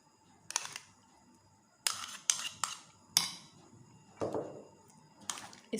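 Yogurt being stirred into beef boti in a pot: a spoon scrapes and clinks against the metal in sharp, irregular strokes with quiet pauses between them, close and fairly crisp.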